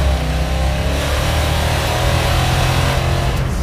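Junkyard-rescued Plymouth Barracuda V8 on a nitrous oxide test ride, engine roaring loud and close from inside the car with a continuous heavy rumble that surges unevenly.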